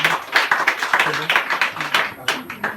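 Rhythmic clapping and applause from a congregation praising the Lord during a church testimony, a steady run of close, crisp claps with some voices mixed in.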